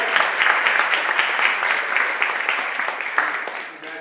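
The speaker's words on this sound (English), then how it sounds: "Can we just give a round of applause for our amazing playwright?" A theatre audience applauds a playwright with steady, dense clapping that holds evenly throughout and fades slightly toward the end, with no voices over it.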